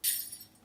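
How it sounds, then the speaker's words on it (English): A single tambourine hit played in one-shot mode in the Serum synth gives one bright, jangling strike that decays quickly, soft and isolated with no repetition. "And here's how it sounds while using one-shot mode"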